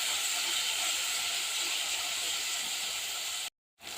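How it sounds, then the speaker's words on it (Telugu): Vegetables with tomato and coriander fry in a pan for vegetable dum biryani, a loud, steady, hissing sizzle close by that cuts out briefly and then resumes. "ఇది కూడా కొంచెం ఫ్రై అయిపోయే వరకు బాగా మగ్గే వరకు ఫ్రై చేసేసుకుందాం"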